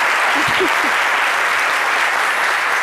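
Dense, continuous applause from a studio audience fills the whole stretch, steady and loud, with a brief voice or cheer near the start.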